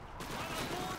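Gunfire bursts in the World War II shooter Call of Duty 2, a dense, loud barrage of shots packed across the whole second with talk mixed over it.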